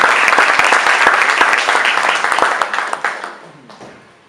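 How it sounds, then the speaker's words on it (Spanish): A church congregation applauds warmly as a man named Rafael is welcomed: dense, steady clapping from many hands that thins and fades out over the last second. "Recibimos a Rafael con un aplauso cariñoso."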